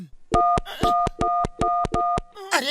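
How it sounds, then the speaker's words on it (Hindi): Telephone dialing tones from a public phone booth in a cartoon, a string of seven or so short, evenly spaced beeps, near and clear, followed by a brief voice. "मैं अमेरिका अपनी मम्मी को फोन लगा रहा हूँ।"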